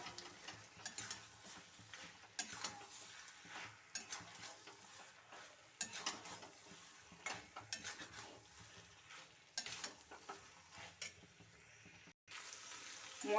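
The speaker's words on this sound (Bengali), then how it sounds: "মশলার সঙ্গে পটল আলু চিংড়ি মাছ কষিয়ে নিয়েছি" Pointed gourd, potato and prawns are stir-fried in spice paste, with a spatula scraping and tapping the pan in irregular bursts over a quiet sizzle.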